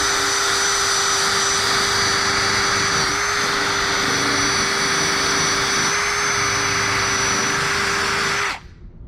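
Wire wheel on a power tool scrubbing the exhaust of a Nissan 240SX, a loud steady high-pitched whine with grinding hiss running continuously for about eight seconds before cutting off abruptly.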